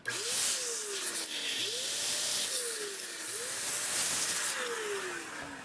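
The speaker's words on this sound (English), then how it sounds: "I'm just going to blow the dust a little bit. I have a little compressor under the table" A small air compressor blows dust out of a MacBook Pro A2442 in loud, close hissing blasts, several in a row, with a rising and falling whine that sweeps through each burst.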